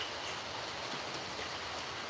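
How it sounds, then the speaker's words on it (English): A steady, broadband hiss of compressed air blows carbon debris out of an engine cylinder's exhaust port, continuous and close for the whole stretch with no talking. "Let me hit this with the air compressor real quick because"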